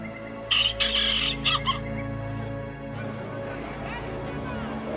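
A rooster crows loudly in short bursts near the start, then fades under a steady hum of background noise with a voice present.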